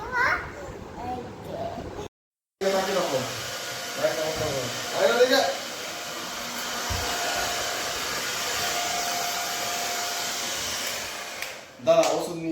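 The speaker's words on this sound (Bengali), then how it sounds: "ড্রায়ার দিয়ে চুলটা শুকানো হলো" A hair dryer blows continuously while drying hair, a steady close whoosh broken once by a short pause, with a voice and other talk over it.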